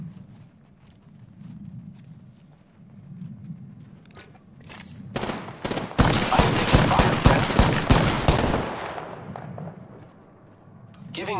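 Rapid bursts of Alternator gunfire in a sci-fi shooter game, a few scattered shots followed by a loud sustained volley of fast automatic fire that tapers off, with faint game sounds between.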